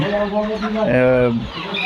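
Layer chicken pullets, both red and white birds, cluck and call together on a poultry farm, their busy chatter steady and close while someone talks over them throughout.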